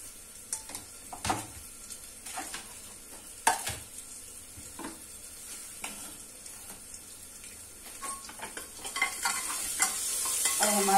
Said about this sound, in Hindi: ये हमारा मसाला भून चुका है